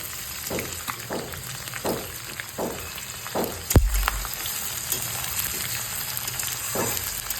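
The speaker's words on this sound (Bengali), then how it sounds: "লাল লাল করে আমি পেঁয়াজটা ভেজে নেব" Chopped onions fry in a pan with potatoes and whole garlic cloves, giving a steady crackling sizzle broken by rhythmic stirring scrapes and one sharp utensil knock, close by and without talk.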